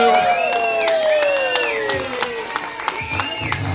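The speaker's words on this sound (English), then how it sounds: "Please give a round of applause." Wedding guests clap and cheer for the bridal party at a reception, with steady applause continuing under an amplified announcer's voice and whooshing sweeps of background music.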